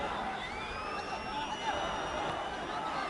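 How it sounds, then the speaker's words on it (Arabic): Loud stadium crowd roaring and cheering continuously at a 2015 Egyptian league football match between Al Ahly and Zamalek, a dense wash of voices with faint whistles rising above it. "الجماهير المتواجدة تهتف وتشجع"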